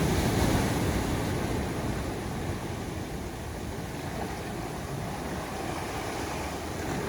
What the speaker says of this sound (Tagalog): Nagagalit yung alon.